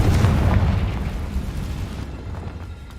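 A Confringo blasting spell explodes in Hogwarts Legacy, a loud close boom with a heavy low rumble that fades over a few seconds.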